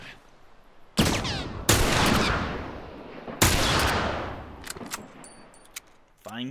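Gunfire in The Last of Us: three loud, sharp shots, each followed by a long ringing decay, with a quieter crack near the end, all close and with no talking.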